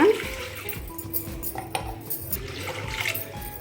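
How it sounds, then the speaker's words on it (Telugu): Water splashes and pours steadily into a metal pan, with a few light clinks of cookware in between. "ఇలా మూకుడు పెట్టుకొని దీంట్లో వాటర్ వేసుకోవాలన్నమాట."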